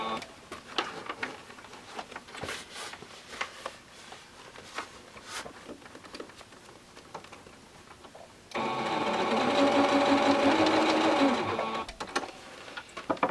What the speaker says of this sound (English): I'm just going to start sewing, make sure to backstitch